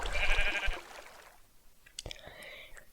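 Sheep bleating in a video game, a hoarse bleat in the first second, then quieter clicks and game sounds.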